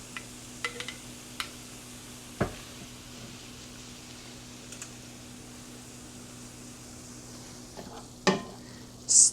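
Marinara sauce simmering in a cooking pan for high-protein lasagna, a quiet sizzle under a steady hum, with scattered soft clicks and scrapes of stirring and a louder clatter near the end.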